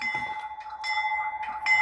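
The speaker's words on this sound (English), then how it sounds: "As the bell rings, the ditch lights oscillate." Sound-unit bell of an HO scale Rapido C36-7 Norfolk Southern #8539 model locomotive, a steady metallic ringing repeating at a fairly quick pace, small and fairly close, with no talk over it.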